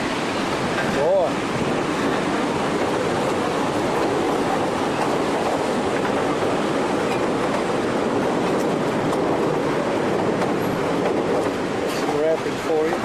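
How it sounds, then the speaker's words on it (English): An Alaska river's rapids make a loud, constant rushing roar of churning water that fills the whole stretch without letup, with a faint voice briefly audible. "Rapids for you."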